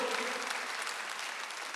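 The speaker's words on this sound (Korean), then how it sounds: "박수 한번 넣으세요." Congregation applauding at a Korean church Sunday worship service, a dense, steady wash of clapping that holds at an even level for the whole stretch with no talk over it.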